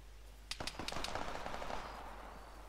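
Gunfire from the Arma 3 military shooter game: a quick cluster of five or six sharp, close shots within about half a second, followed by a lingering echoing tail over a steady low hum.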